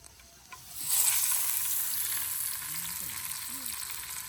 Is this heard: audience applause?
no